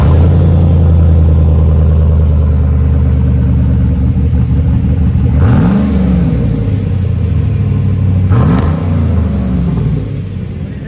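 Cammed Chevrolet Silverado pickup fitted with Vibrant Ultra Quiet mufflers, idling with a loud choppy lope and then revved twice in sharp rising-and-falling blips before settling back to a rough, steady idle.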